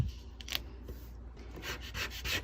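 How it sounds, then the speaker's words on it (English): Matte transfer tape is burnished onto glow-in-the-dark vinyl with firm rubbing strokes, a close, dry scraping that comes in short uneven passes with no talking. "Gonna burnish the front and the back."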